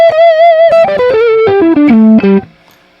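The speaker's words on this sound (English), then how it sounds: "it does say E-guitar distortion" Electric guitar played with a distortion effect through a Flamma FM10 USB mixing console, a loud overdriven descending melodic line of sustained notes that stops and leaves a brief quiet tail.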